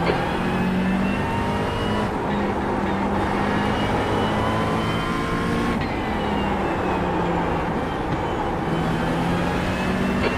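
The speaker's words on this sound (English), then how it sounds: "Alright Greg, there's a faster car approaching." Racing cars roar steadily around a track in a sim racing video game, a dense continuous engine drone with shifting pitch as cars pass, moderately loud with no talk over it.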